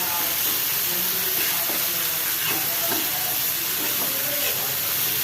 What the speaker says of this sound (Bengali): এই মশলাটা ভালো মতন কষানো হয়ে গেছে